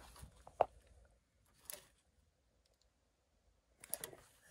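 Faint, sharp clicks from the fan relay on a Lennox furnace whose ECM blower motor has failed. A few isolated clicks are separated by quiet gaps, followed by a small cluster near the end.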